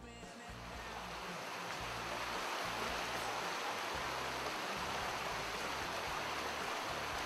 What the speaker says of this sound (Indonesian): ini namanya Sungai Tapal Kuda